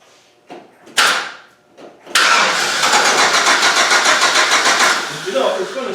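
A GM Vortec engine cranks with a few short bursts, then catches and runs steadily with a loud, rough, pulsing roar that eases slightly at the end. A voice is heard during it.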